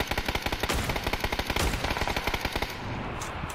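Rapid automatic gunfire in a video game, a fast rhythmic string of loud close shots that stops abruptly near the end, leaving a quieter background.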